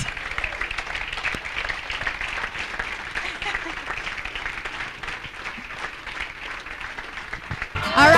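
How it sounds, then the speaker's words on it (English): Banquet audience applauding Darrell Mouse Davis at a football hall of fame induction, a steady wash of clapping with some crowd noise and voices mixed in, holding fairly even throughout and swelling louder at the very end. "Can we get a roaring round of applause for the one and only Darrell Mouse Davis?"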